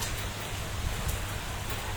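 Sudden steady rain pours during a Kalbaishakhi storm in Dhaka, a dense continuous hiss with faint patters and low rumble throughout, fairly quiet and unbroken.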